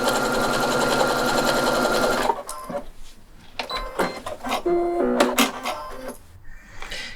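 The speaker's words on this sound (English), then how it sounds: "you'll see that the H640 goes through your sewing machine very," A sewing machine stitching fabric backed with H640 interfacing, a fast, even mechanical chatter for about two seconds, followed by scattered clicks, thumps and rustling as the material is handled.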